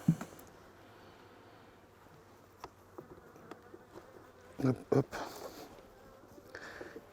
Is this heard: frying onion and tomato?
no